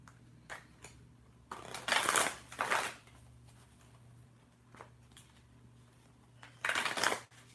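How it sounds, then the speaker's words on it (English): Tarot cards are shuffled in several short riffling bursts, close and crisp, separated by quieter pauses. "Showing me a whole bunch of cards as I'm shuffling."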